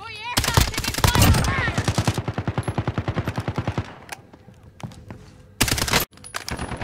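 Gunfire in the Call of Duty video game, a rapid machine-gun burst of evenly spaced shots, loud and close, followed by a couple of heavier blasts, with a voice shouting over the start.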